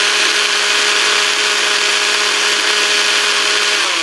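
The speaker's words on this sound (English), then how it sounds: "Just use your regular blender, and we'll pulse it." Steady, loud motor whir from a regular kitchen blender blending red chili paste into a smooth, thick sauce, running continuously and alone, with a slight drop in pitch near the end.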